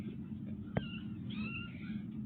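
A cat gives a few faint, brief meows over a low background hum, with one short click partway through.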